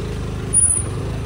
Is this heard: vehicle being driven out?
yes